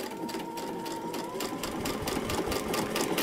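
A sewing machine stitching along the line in paper piecing, a fast steady mechanical rattle of the needle that stays close and fairly quiet, with no talking.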